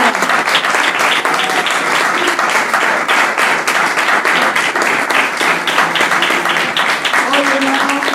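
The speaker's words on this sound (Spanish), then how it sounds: "Dale un fuerte aplauso a Dios" A church congregation applauding, dense sustained clapping from many hands, loud and close, with scattered voices mixed in.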